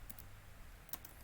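Keys tapped on a computer keyboard, a handful of quick, quiet clicks in short bursts over a low steady room hiss.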